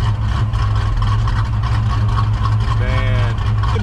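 Supercharged 1992 Ford Mustang notchback coupe idling with a deep, steady rumble and slight lope, loud and close, while people talk over it.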